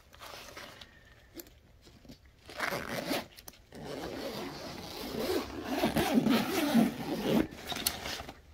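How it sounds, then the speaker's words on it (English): A zipper on a fishing rod and reel bag drawn open in several quick runs, close and fairly loud, with rustling fabric between pulls. "It's got double zipper handles on each zipper."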